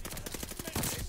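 A Thompson submachine gun fires in Call of Duty Vanguard as a rapid, evenly spaced string of close, loud shots across about a second.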